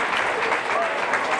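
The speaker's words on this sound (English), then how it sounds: "She deserves a round of applause," Crowd applauding a player at a girls' high school basketball playoff game, sustained clapping filling the gym at steady volume throughout.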